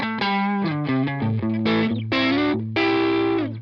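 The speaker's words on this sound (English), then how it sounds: "So I now have something that actually sounds like a proper guitar plugged into an amplifier." Distorted electric guitar played through a Line 6 Helix amp and 112 Open Cream cab model, with a run of short picked notes followed by longer ringing chords, loud and unaccompanied.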